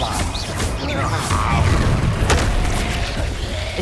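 A Confringo explosion spell in the video game Hogwarts Legacy, heavy booming blasts and crashing impacts in a loud, continuous wash of combat noise with a voice shouting over it.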